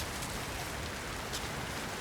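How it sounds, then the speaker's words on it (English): Steady rain falls across a moody outdoor setting in a climbing game, a soft even hiss with faint patter and no talk. "It's also raining"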